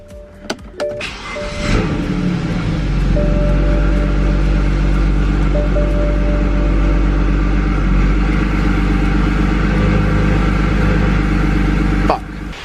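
BMW N54 engine cranking over and catching at around two seconds, then idling steadily and loudly close by, with an onset sound at the start and a faint click near the end.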